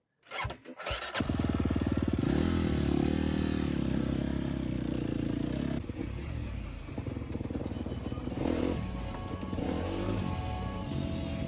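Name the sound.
dirt bike riding on trails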